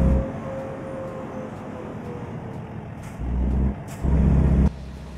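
A heavy truck on the road from France to the UK idles with a low diesel rumble, then gives two loud hissing bursts of air brake release in close succession.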